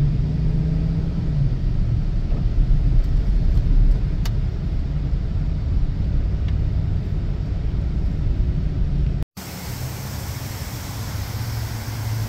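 Road noise inside a moving Cadillac on the road: a constant loud rumble and broadband whoosh of tires and wind, briefly cut off near the end and then resuming at a slightly lower level.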